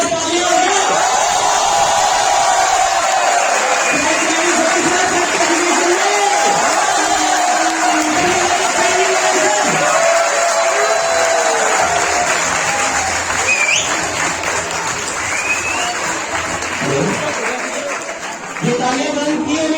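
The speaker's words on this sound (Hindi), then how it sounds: "प्लीज जोरदार तालियां।" A crowd at a Chhath Puja foundation event on stage breaks into loud, sustained applause with cheers and whoops, continuous for about twenty seconds and easing slightly at the end.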